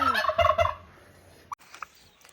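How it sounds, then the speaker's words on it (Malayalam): A domestic turkey lets out a loud, close gobble, a rapid burst of rattling calls in the first second, followed by quieter background with a few faint clicks. "ഈ കൂട്ടിക്കിടന്ന് കറങ്ങിത്തിരിയുന്ന ഈ ഒരു ടർക്കി കോഴി"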